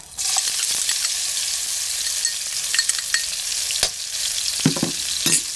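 Coarsely pounded green and red chilies with garlic stir-fry in a hot pan, a steady bright sizzle with scraping spatula strokes and clacks, loudest near the end.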